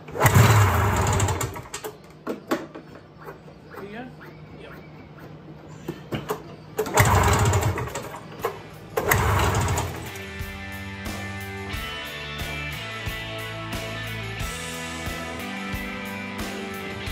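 A Ski-Doo 377 Scandic snowmobile engine cranks in loud bursts, sputters, then catches and settles into a steady, buzzy two-stroke idle that runs close and loud to the end, with no voices.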